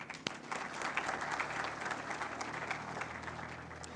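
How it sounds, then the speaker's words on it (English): Audience applause at an anniversary celebration in Kenya, a steady wash of many hands clapping heard from a distance at moderate volume, sustained for several seconds. "a round of applause is in order for all of you"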